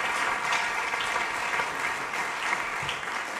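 An audience applauds a drummer at a Latin jazz concert, a dense, steady wash of clapping that holds evenly throughout, fairly loud with no voices over it.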